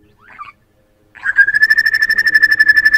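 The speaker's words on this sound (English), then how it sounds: "A grey butcher bird." A grey butcherbird gives a brief soft note, falls silent, then sings a loud, sustained whistled phrase with a rapid pulsing flutter, close and clear.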